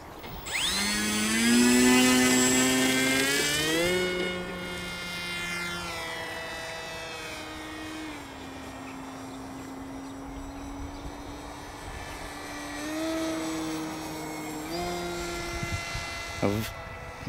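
AXN Floater Jet radio-controlled model plane in flight, its electric motor whining with shifting pitch as it climbs, passes and throttles back, loud at first then fainter, with a voice talking over it.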